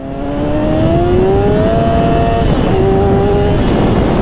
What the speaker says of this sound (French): Ça accélère tellement fort que